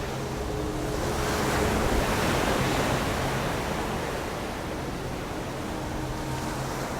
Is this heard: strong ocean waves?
yes